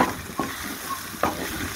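Spices (salt, chili powder, turmeric, garam masala) being stirred into frying fish masala in a pan, with a steady sizzle and two distinct scraping stirs of the spoon, close and fairly loud, no talking.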